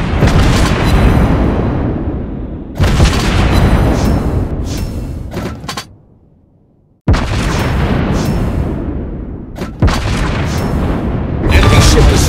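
Loud explosions in a space combat video game as an enemy ship is destroyed, a series of heavy booming bursts with rumbling decays, separated by a brief quiet gap.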